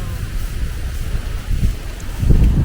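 Wind gusts across the microphone outdoors in a provincial backyard, making a low, buffeting rumble that swells louder toward the end.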